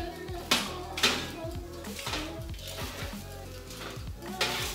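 Butternut squash pieces being flipped and tossed on a roasting tray halfway through oven roasting, with several sharp metallic clanks and scrapes of utensil on pan spread across the moment, fairly close.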